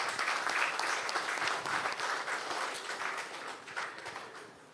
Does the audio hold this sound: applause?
yes